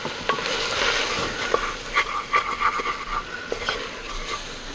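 Two tablespoons of smoked paprika stirred and cooking in a pot for chicken couscous soup, a soft steady sizzle with light scraping strokes of a utensil against the pot, no talking.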